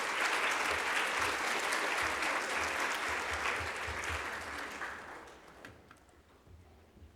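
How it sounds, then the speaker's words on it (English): A conference audience at a morning plenary session applauds loudly and steadily, the dense clapping holding for several seconds before thinning out and fading toward the end. "Let's give Joy another round of applause."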